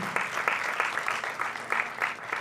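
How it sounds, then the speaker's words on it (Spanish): Audience claps for a film producer at a cinema production masterclass, a brief spell of moderately loud, rhythmic applause in a room, with no talk over it. "por favor darle un aplauso a Marta"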